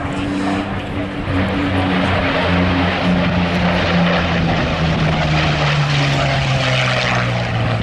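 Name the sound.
vintage fighter aircraft flying at air show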